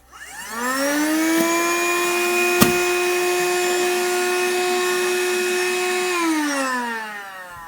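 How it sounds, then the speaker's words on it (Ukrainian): An Aspiring Windstorm 2 WIN3090W car vacuum cleaner motor whines up to speed, runs steadily at a loud, even pitch for several seconds, then winds down. "І давайте тепер подивимось, як спрацьовує пилосос."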